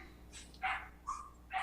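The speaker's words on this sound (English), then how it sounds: "I want to apologize for the dogs and the neighbors' dogs" Dogs bark in the morning, including a neighbour's, three short sharp barks at a moderate distance over a quiet background.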